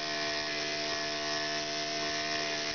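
A small Bijou model engine with a tiny flywheel runs flat out at high speed, giving a steady, dense, close mechanical whine and buzz with no pauses.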